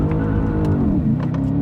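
An Audi B8 RS5 launching hard with its tires spinning, the engine holding a loud steady drone that rises slightly in pitch, close by and without talk.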